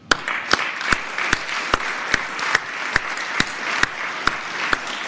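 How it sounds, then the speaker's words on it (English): Applause in the Virginia Senate chamber: many hands clapping steadily, with a single sharp, regular clap standing out roughly every 0.4 seconds over the dense, even wash. "I would ask the Senate to please join me in offering a round of applause for the Reverend Mark Morrow out of Williams"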